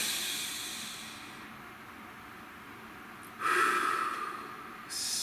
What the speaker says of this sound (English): So please, a nice deep breath.